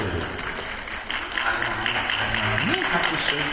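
Audience clapping at a character show event, a steady patter running under voices and background music, with talk audible over it.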